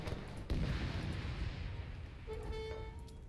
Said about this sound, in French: C'est l'artillerie, les gars.